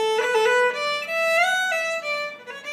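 Irish fiddle playing a long roll variation: a short bowed phrase of sustained notes broken by quick ornamental flicks and pitch turns, bright and close.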